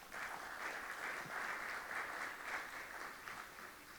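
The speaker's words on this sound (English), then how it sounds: "Give them a round of applause." Applause for board members at a FICCI general meeting, steady faint clapping from a crowd that holds an even level throughout.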